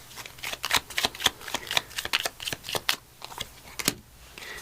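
Oracle cards being shuffled by hand for a divine doorway reading, a steady run of crisp riffling flicks and soft paper slaps, close and fairly quiet with no talking.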